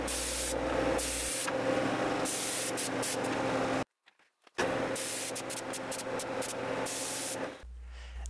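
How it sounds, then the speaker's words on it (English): High build primer surfacer is sprayed from an aerosol can onto a cracked steering wheel under restoration: loud continuous hissing bursts, close up, broken by a brief pause and short stops between passes. "spray the entire steering wheel"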